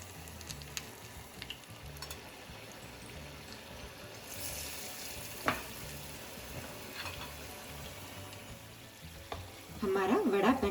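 Vada pav vadas frying gently in oil on a low flame, a soft continuous sizzle with faint crackles and a few small clinks, growing a bit louder at the end.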